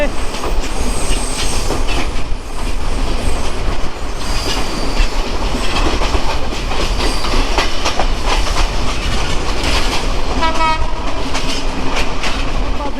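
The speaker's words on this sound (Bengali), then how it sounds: "আমাদের চিলাউটি এক্সপ্রেস ট্রেনটি রাজধানী ঢাকার কমলাপুর রেলওয়ে স্টেশনের পাঁচ নং প্ল্যাটফর্মে দিল" The Chilahati Express passenger train runs toward Kamalapur station in Dhaka, heard from on board as a loud, continuous rumble and clatter of wheels on rails, with a horn sounding near the end and faint background voices.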